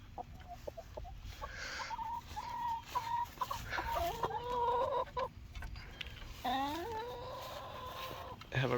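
Chickens cluck and squawk repeatedly nearby, a busy run of calls with brief pauses, over a low outdoor background.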